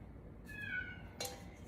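A house cat shut in a basement lets out a drawn, rising-and-falling meow followed by a short second cry, somewhat muffled and distant over low room noise.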